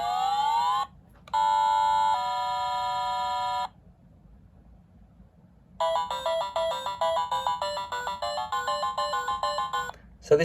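A sound chip under acceptance testing plays electronic test tones: a rising sweep, then steady beeps, a short pause, and a rapid, warbling run of stepped synthetic notes.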